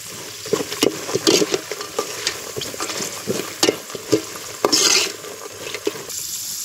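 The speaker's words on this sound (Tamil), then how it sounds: "இப்போ கருவேப்பிலை போட்டுக்கலாம்" Curry leaves sizzling and crackling in hot oil in a pan while making puliyodharai, tamarind rice, with bursts of spluttering and stirring clatter over a steady frying hiss, close and fairly loud.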